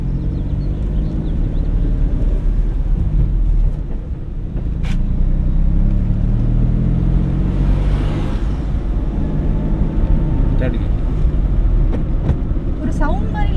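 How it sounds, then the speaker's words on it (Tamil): A car engine in second gear during a driving lesson gives a steady, close low rumble inside the cabin that holds evenly throughout, with a brief dip partway through. "உருன்னு இன்ஜின் சவுண்டு லைட்டாக ஒரு சவுண்டு வருது."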